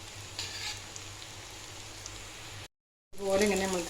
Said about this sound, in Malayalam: ഞാൻ കുറച്ച് എണ്ണ ഒഴിച്ചിട്ട് വറുത്തെടുക്കുക കേട്ടോ